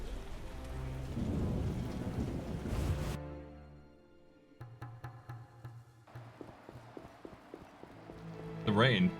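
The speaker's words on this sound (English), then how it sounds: "The rain hitting the roof." Rain drums on a roof in The Witcher game, a soft hiss with rumbling thunder at the start. Hoof-like clip-clop knocks follow, then a brief burst of sound at the end.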